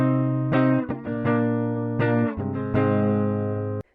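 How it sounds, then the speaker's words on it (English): A distorted electric guitar rings out sustained chords and changes, loud and close with a buzzy, effects-laden tone and no voices. "it's the sound of a guitar."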